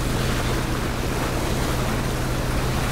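A loud, steady motorboat engine drone in the video game PUBG, mixed with rushing water noise, continuous and close, with no voices.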